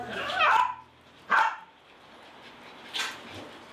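Several dogs bark at an animal shelter on Palgongsan, three separate bursts of barking at close to moderate range, the first longest, with quieter gaps between and no talk.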